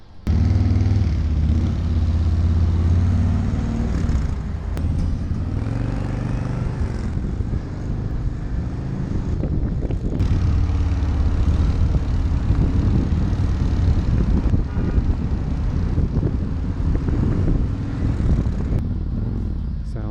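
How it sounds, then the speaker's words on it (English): A Harley-Davidson motorcycle, one of the brand's bigger bikes, rumbles steadily on a test ride, its engine droning low and loud throughout with some wind noise and shifts in pace. "So I'm taking it for a test ride."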